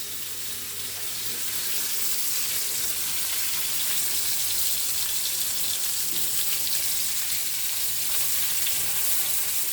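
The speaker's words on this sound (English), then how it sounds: "So you can hear the sizzling." Chicken fillets fry in a pan with a steady, dense crackling sizzle, close and continuous, building slightly at the start and then holding even throughout.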